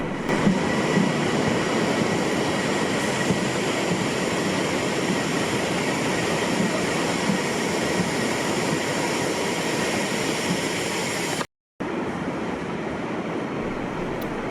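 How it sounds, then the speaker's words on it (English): A Transpennine Express passenger train runs past a halted ballast train, a steady loud rail roar with rumbling wheels that holds throughout, cut off by a momentary dropout near the end. "Brought to a halt to allow a Transpennine Express to go through."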